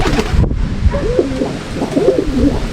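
Racing pigeons coo in a loft, several soft, throaty rolling coos repeating close by over a steady background hiss, with no talking.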